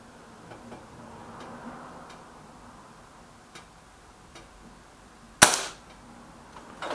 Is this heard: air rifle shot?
yes